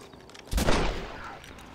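A single loud gunshot cracks out in the Red Dead video game, a sharp burst with a short trailing echo over a quiet background.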